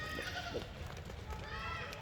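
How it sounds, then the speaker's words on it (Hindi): A goat bleats on a goat farm, a few short calls under steady close talking throughout. "ये बकरा है।"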